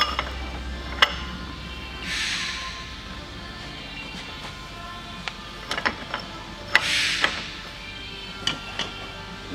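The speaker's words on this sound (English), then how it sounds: "So you're gonna back that same nut you just torqued one full turn." A torqued wheel-end adjusting nut is backed off one full turn: sparse, faint mechanical clicks with two brief scraping bursts in a quiet shop, with no talking.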